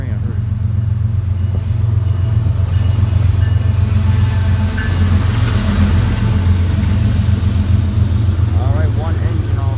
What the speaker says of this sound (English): And there's a train, I heard.